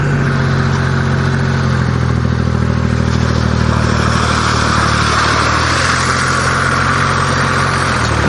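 A farm machine's engine working a muddy rice field in Hoi An, Vietnam: a loud, continuous, rumbling drone with clattering, close and unbroken for the whole stretch.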